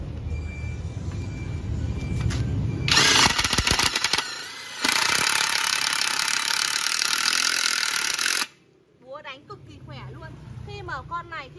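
A VICTOR brushless cordless impact wrench drives into thick U7 steel, giving loud rapid hammering bursts, first a short run and then a long continuous stretch, before stopping abruptly.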